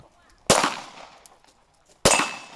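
Two sharp, loud gunshots ring out at a firing range during target shooting at a security forces' training demonstration, spaced about a second and a half apart, each with a short decaying echo.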